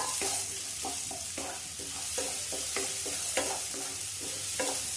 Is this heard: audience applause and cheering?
no